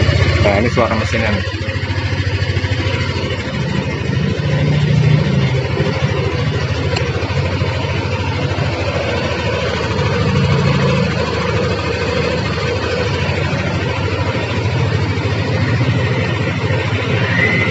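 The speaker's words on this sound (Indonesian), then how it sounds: "Nah, ini suara mesinnya." A 2020 Yamaha NMAX scooter idles nearby, its engine giving a steady low hum all the way through, with people talking over it.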